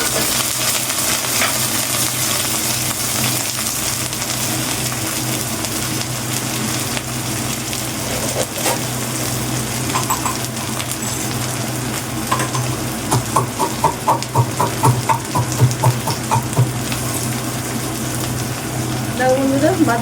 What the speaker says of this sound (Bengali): ফুলকপিটা হালকা ভাজা হয়ে গেছে, এখানে আমি মটরশুঁটিটা দিলাম।